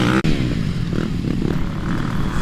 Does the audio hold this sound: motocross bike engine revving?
yes